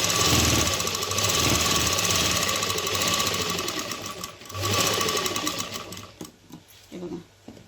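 An electric sewing machine stitches a reused onion-mesh bag, a loud, fast mechanical rattle running nearly continuously before slowing and stopping, then a few short bursts of stitching near the end.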